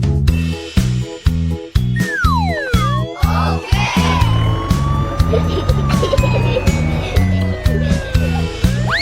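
Police car siren wailing with rising and falling sweeps, mixed over a steady rhythmic children's nursery-rhyme music track with sung vocals.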